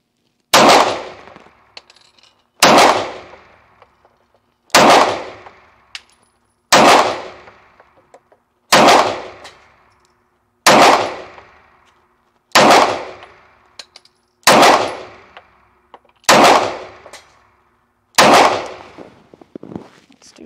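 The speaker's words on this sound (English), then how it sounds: "we're just gonna put a few more rounds through and see what happens." Ten loud, sharp gunshots from a Cosaint Arms COS11 pistol fire at a slow, steady pace about two seconds apart. Each crack rings out with a decaying tail, and no voices come through.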